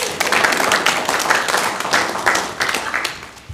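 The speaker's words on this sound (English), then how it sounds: "Give yourselves a round of applause." A church congregation at a morning service breaks into steady, dense applause, many hands clapping together at a loud, close level throughout with no talk over it.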